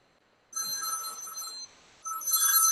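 A telephone bell rings loudly in two bursts with a short gap between them, bright and close, with no voices.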